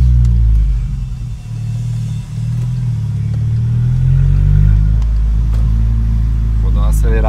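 A VW Jetta TSI 2.0 fitted with an exhaust diffuser rumbles with a deep, heavy engine drone heard from inside the cabin, swelling and easing as it revs, while someone talks over it throughout.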